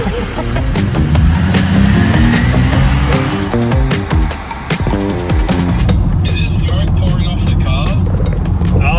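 Car engine with a slight misfire running loud and close under ongoing talk, a rumbling idle with uneven pulses and revving.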